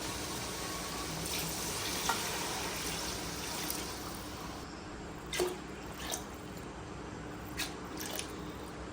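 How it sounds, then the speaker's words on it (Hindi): Water poured into a pot of cooked chicken gives a steady sizzling, splashing wash, with a few sharper drips and clinks near the end and no talking. "तो अभी इसमें पानी ऐड कर देते हैं।"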